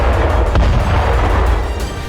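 A tank explodes in war footage from the Israel–Hamas conflict, giving a loud, heavy boom with deep rumbling that stays dense and sustained for about two seconds.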